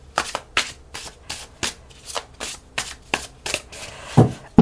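Tarot cards shuffled by hand, a rapid series of about a dozen crisp riffling bursts in an uneven rhythm, close and fairly loud with no talking.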